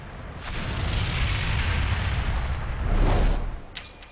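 Dirty Fireworks attack in the Dragon Ball Legends video game: a loud, sustained rumbling explosion with a second burst swelling near the end, followed by a bright shimmering effect.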